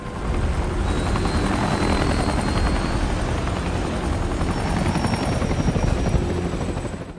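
A helicopter's rotor thumps steadily and loudly throughout, a constant close whirring drone with no voices.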